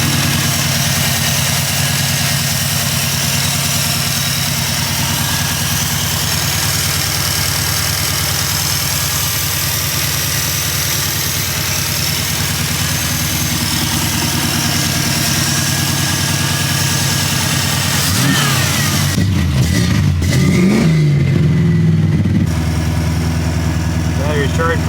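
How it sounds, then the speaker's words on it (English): An EFI-converted AMX engine idles steadily and rumbles loudly for a long stretch, then revs and shifts pitch as the car pulls away near the end. "I get to go for a drive, which is not a bad way to spend my day, and I get to do it in my AMX"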